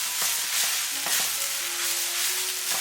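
Seasoned radish cake mixture being stir-fried in a wok with soy sauce, oyster sauce, salt and pepper: loud steady sizzling with repeated scraping strokes of the spatula, close up and without talk.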